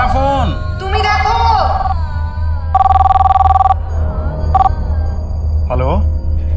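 An indoor telephone rings in repeated electronic bursts, sharp and fairly loud, amid people's voices and other sounds.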